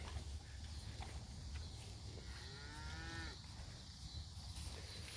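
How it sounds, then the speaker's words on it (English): Cattle with calves in a grassy pasture, one drawn-out moo rising from a steady outdoor background hum, moderately distant and alone, with no talking. "these cattle and the calves"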